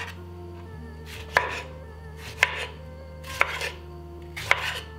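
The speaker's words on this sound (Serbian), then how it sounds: "i seckaću jedan paradajz" A tomato is chopped on a board with four sharp, evenly spaced knife strikes about a second apart, close and clear over a low steady background hum, with no voices.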